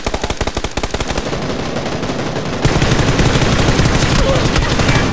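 Rapid automatic gunfire from a weapon in PUBG, a dense rattling burst of close shots that gives way to sustained loud firing and fusillade-like noise.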